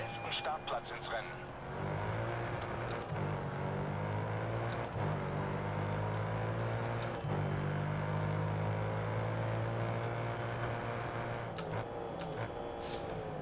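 A rough, rattly street car engine in the racing game Grid Autosport drones steadily throughout, sounding like a damaged exhaust, with low harmonic rumble and talk faintly over it.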